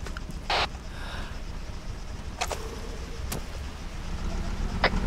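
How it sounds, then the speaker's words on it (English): A truck drives in the Arma 3 military video game, its engine a steady low rumble under faint sharp clicks and brief bursts of noise, moderately loud throughout with no talking. "That truck's still moving."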